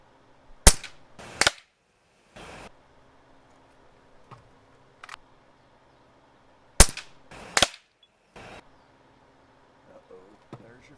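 An Umarex APX air pistol fires from its magazine in a backyard shooting contest, with sharp, loud pops in two quick clusters separated by quiet, plus fainter clicks between shots.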